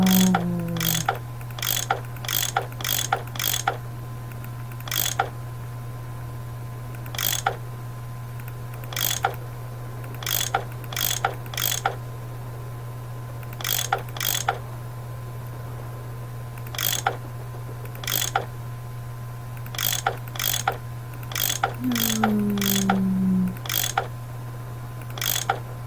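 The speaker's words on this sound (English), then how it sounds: "I bet that's what you use to unscrew these bolts." Clicking ratchet tool unscrewing bolts in the Nancy Drew game Last Train to Blue Moon Canyon, short bursts of sharp mechanical clicks repeating in clusters over a steady low hum, with a brief creak near the end.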